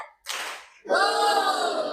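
A classroom group gives a short burst of hand claps, followed by a loud, sustained chorus of children's voices shouting a chant.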